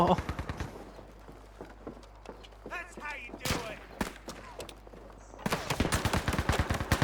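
Enemy gunfire in Battlefield V: rapid bursts of close, loud shots open the clip, scattered single cracks follow under excited voices, then another dense automatic burst erupts near the end.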